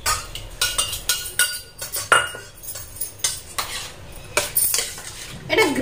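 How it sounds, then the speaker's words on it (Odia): A spoon stirs curd into a gravy in a metal pot, giving repeated quick scraping clinks in an uneven rhythm, close and moderately loud with no talk. "ଏବେ ଦହି ମିଶେଇ ଦବା ଏଠି"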